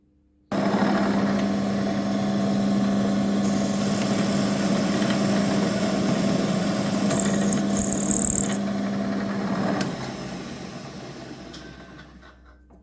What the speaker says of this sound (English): The top will be drill to clearance with an 8mm end mill.